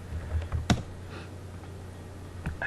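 Keys clack on a computer keyboard during a text adventure game, a few scattered taps with one sharper strike, then a pause before a final press, over a low steady hum.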